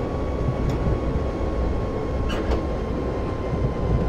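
An oncoming class 189 electric locomotive passing on the Wittenberg–Berlin line in Train Simulator 2018, heard as a steady loud rolling rumble with a faint high tone and a few brief clanks as it goes by.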